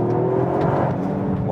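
A Toyota GR Yaris hot hatch accelerating hard in second gear on a wet road, its engine note rising in a loud, steady, close-up drone with no talking.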